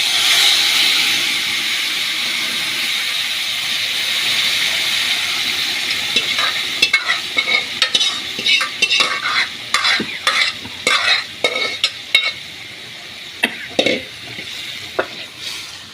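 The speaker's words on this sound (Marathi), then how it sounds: "आता त्याच्यामध्ये आपण हे मटण टाकून द्यायचं।" Marinated mutton fries and sizzles in a pan with toasted cumin, a steady hiss overlaid by repeated scraping stirs of a spoon in the second half.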